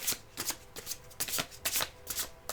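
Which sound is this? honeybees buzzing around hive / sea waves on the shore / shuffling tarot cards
shuffling tarot cards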